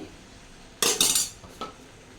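A spoon clinks and scrapes against a pot while brinjal curry is mixed, making a short burst of metallic knocks followed by one fainter tap, close and with no talk.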